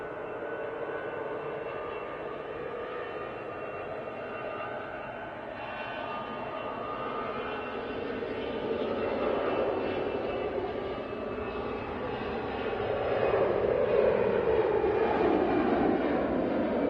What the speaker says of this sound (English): Next out, Lufthansa A320 on the way back to Frankfurt.